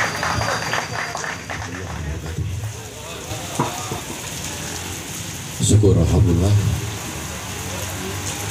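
Steady rain falls continuously as a broad hiss throughout, with a person speaking over it and a louder rumbling burst near the end.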